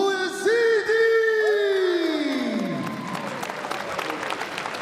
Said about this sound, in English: Make some noise for Mourad Bouzidi!